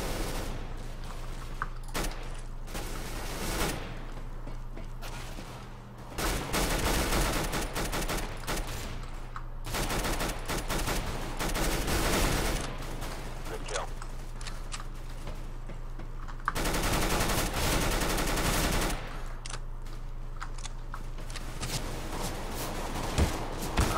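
Video game gunfire crackles in dense bursts of rapid shots, loud and sustained through most of the stretch, with brief lulls between volleys.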